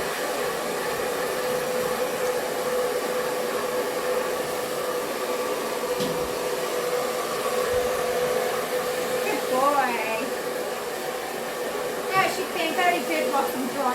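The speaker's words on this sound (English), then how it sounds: "This is a doggy hair dryer" A steady dog-grooming hair dryer whoosh runs throughout, broad and continuous, with brief faint whistling chirps near the end.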